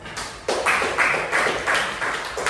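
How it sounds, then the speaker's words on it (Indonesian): Classroom applause from students, a few short bursts of clapping and tapping that come in uneven waves, close and moderately loud, with no talk over them. "Oke, kita berikan aplaus"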